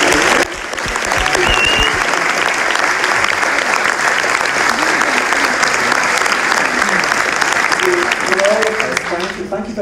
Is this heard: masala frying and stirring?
no